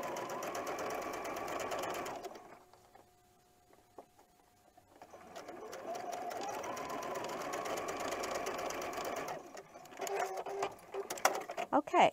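A sewing machine stitches quilt block pieces assembly-line style, running in a steady whirring hum, pausing briefly for a couple of seconds, then starting up again before some handling clatter at the end.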